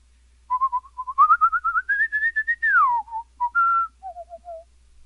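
A character whistles a bright, wandering tune in King's Quest: The Silver Lining, a clear melodic line of short and sustained notes that climb, then slide downward, close and alone with no talk.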